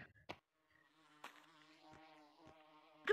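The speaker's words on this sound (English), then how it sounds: "If you throw water balloons on them, they get bees." Soft buzzing of bees in the VR game Gorilla Tag, a faint steady drone with a few sharp clicks and taps over about three seconds, no talking.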